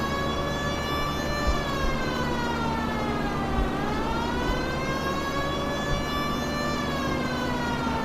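A police car siren wails continuously in the video game L.A. Noire, rising and falling in a steady loud cycle over a low rumbling engine, with no talk.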